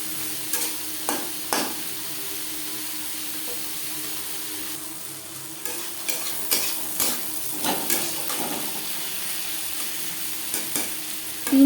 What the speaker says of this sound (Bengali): তিন চার মিনিট নাড়াচাড়া করে নেওয়ার পর